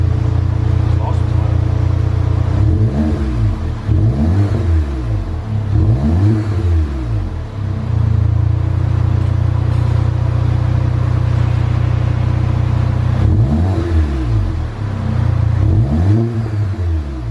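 A VW GTI MK7 fitted with an AWE Track exhaust revs loudly and close by, its deep drone rising and falling in several repeated throttle blips over a steady idle.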